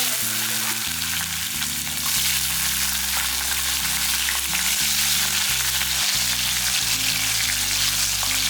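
Black pepper, curry leaves and small onions fry in oil with a loud, dense, continuous sizzle close by, under low rhythmic background music and no talking.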